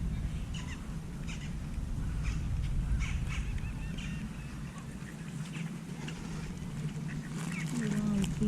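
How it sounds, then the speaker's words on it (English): Ducks quack repeatedly at a lakeside, mixed with crow-like calls, moderately near over a steady outdoor background. "They're quacking."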